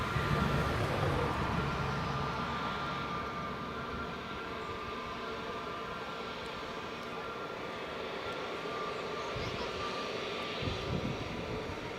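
A Jet2 airliner arriving from Paris at Leeds Bradford Airport gives a steady, broad engine roar that holds for the whole stretch, fairly distant and even, with a slight swell near the start.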